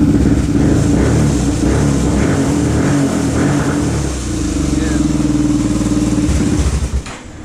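A restored Honda TRX400ex ATV engine idles and revs loudly and close by for several seconds, then drops off at the end, with a voice talking over it.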